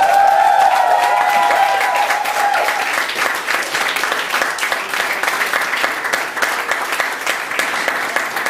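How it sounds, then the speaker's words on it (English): An audience applauds loudly and steadily for a guest act at a spiritual rhythm session, dense clapping that continues without a break. "Applause for Simply the Jets."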